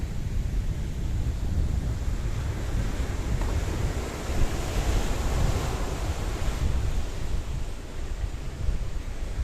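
Strong wind and rough surf along the Paphos coastal pathway in Cyprus, a steady loud roar of crashing waves and gusting wind buffeting the microphone throughout, with no voices.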